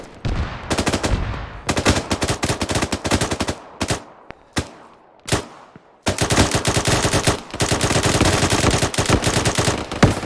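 Machine gun fire in the military video game Arma, long rapid bursts of loud, close automatic shots broken by short pauses and a few single cracks, with no talk over it.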